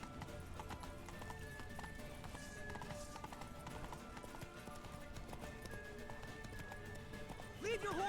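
Horse hooves gallop in a steady rhythm in The Witcher 3, with a whinny and a voice speaking over the hoofbeats, ending in a sharp burst.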